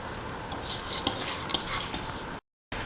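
A spoon stirs soaked rice into an ivy gourd and tamarind mixture in a pan, with soft scraping and light clinks over a steady background hiss, then a brief silence.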